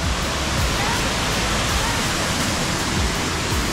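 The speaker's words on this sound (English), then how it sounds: "it still amazes me how beautiful this waterfall is" A multi-level waterfall with greenish water in the Philippines roars steadily and close, a dense unbroken rush of falling water that fills the whole stretch.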